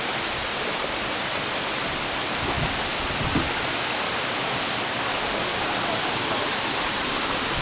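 Waterfall on a trail running course, a steady, loud broadband roar of falling water filling the whole stretch without letup, with no voices heard.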